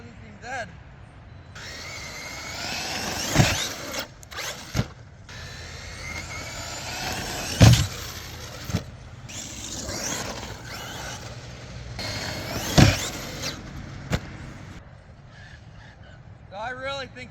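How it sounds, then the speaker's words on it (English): A heavy all-aluminum show queen RC car being driven and jumped, its electric motor whining and revving in rising and falling pulls with a few sharp knocks, while a person talks over it. "it's a super heavy all aluminum show queen that I'm driving"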